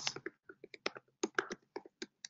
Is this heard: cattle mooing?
no